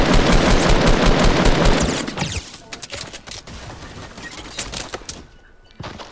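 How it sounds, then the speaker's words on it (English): Rapid automatic gunfire in a Fortnite squad match, a loud sustained burst of shots for about two seconds, then thinning into scattered single shots and impacts. "Keep shooting, Chewie!"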